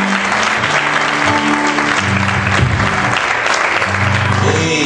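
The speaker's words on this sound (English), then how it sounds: "Give the Lord a hand clap of praise." Church congregation clapping hands in praise during a worship service, loud continuous clapping mixed with sustained organ or keyboard tones and voices underneath.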